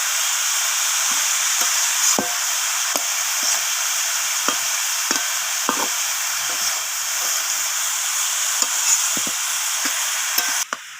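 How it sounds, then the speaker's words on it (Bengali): Cabbage sautés in a pan with a steady bright sizzle and hiss, broken by repeated scraping and tapping strokes of a spatula as it is stirred, with no talking. "সময় ধরে বাঁধাকপিটাকে একটু এরমভাবে নাড়িয়ে চাড়িয়ে কষিয়ে নিয়ে রান্না করতে হবে।"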